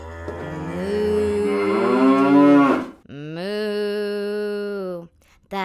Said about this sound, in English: The cow on the farm says moo moo moo all day long.